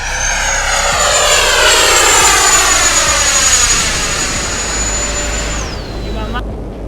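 A high, whining engine drones loudly and steadily as a heavy model J-11BS fighter jet passes close by in flight, its pitch sliding down near the end.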